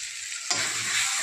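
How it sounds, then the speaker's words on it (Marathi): Masala of garlic masala, turmeric, homemade black masala and a pinch of asafoetida frying in oil, silent at first, then bursting into a loud, steady sizzle halfway through. "मसाला छान परतून झाला आहे, तेल सुटायला लागले"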